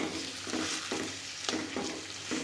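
Green banana mash frying and being turned in a pan, a steady close sizzle and crackle with faint rhythmic stirring scrapes, no voices.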